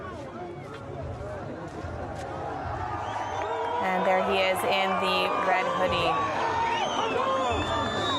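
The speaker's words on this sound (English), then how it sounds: "We can hear jeers from the crowd." Crowd jeering and booing as a released hostage, Tal Shoam, steps out of a vehicle, a dense, steady mass of voices that swells midway, with a commentator talking over it.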